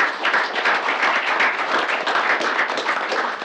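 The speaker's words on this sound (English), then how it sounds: "So a good round of applause to everybody in this room." Steady applause from a township reorganization meeting audience in Hanover Township, NJ, a dense, even wash of many hands clapping at close range that holds evenly throughout.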